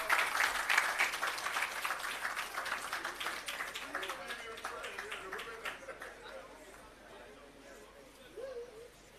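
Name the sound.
applause for land occupant at agro park opening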